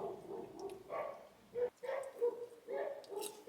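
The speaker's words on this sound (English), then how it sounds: "there's a dog fight" Dogs fight outdoors, passing by with neighbours, breaking into yips, whimpers and sharp barks in uneven bursts, moderately distant.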